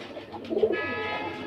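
A female pigeon gives a soft, low coo, brief and close, over a quiet room with faint background hum.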